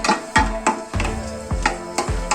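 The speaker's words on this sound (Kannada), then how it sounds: "ಅದನ್ನ ತುಪ್ಪ ಸ್ವಲ್ಪ ಹುರ್ಕೊಳ್ಳೋಣ." Raisins frying in ghee for carrot kheer, a close, steady sizzle broken by several sharp scraping strokes of a spoon against the pan at a regular pace.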